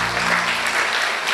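A church congregation at a Mother's Day celebration bursts into dense, steady applause, many hands clapping together at close range with a faint murmur of voices underneath.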